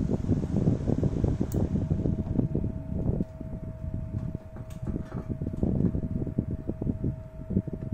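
A small USB desk fan whirs continuously close by, a steady airy hum with a faint tonal whine and some fluttering rumble, no voices.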